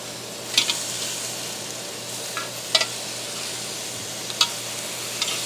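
Shrimp sizzle on a Ninja Woodfire grill just after being flipped, a steady hiss of frying broken by a few sharp spits and pops, close by with no one speaking.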